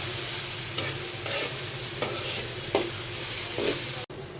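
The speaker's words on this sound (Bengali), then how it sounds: "এখন আমি পেঁয়াজটা ভালোভাবে ভেজে নিব।" Onion fries in oil in a pan with a steady, dense sizzle, broken by a few short scrapes of stirring. It sounds close and continuous, with no voices.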